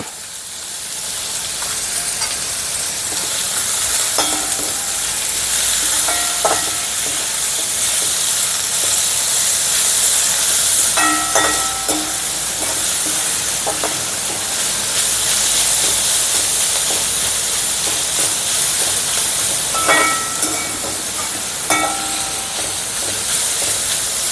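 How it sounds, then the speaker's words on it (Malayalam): Onions sautéing with salt in a pan: a loud, continuous frying sizzle and hiss throughout, punctuated by occasional metallic scrapes and clinks of a spoon stirring. "സവാളയൊക്കെ നല്ലപോലെ വഴന്നിട്ടുണ്ട്"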